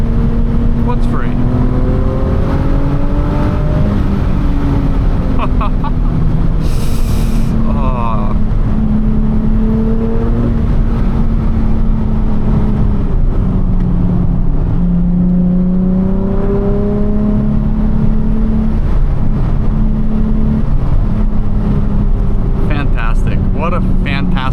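A tuned Nissan 370Z engine droning loudly and continuously while driving, pitch rising and falling through gear changes and throttle, with road and wind noise underneath.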